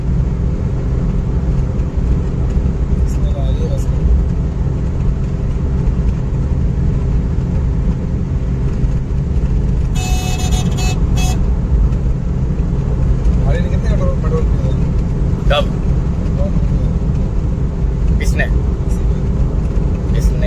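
A car is driven along a straight road for a speed and acceleration test, with a turbo problem and the engine running hot. A steady engine and road drone continues throughout, with faint clicks and rattles over it.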